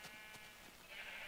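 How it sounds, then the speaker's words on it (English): Sheep in the block-building game Minecraft on Xbox 360, a short soft bleat at a farm pen, faint and alone. "Now, there's two brown sheep in there because they are bosses, apparently."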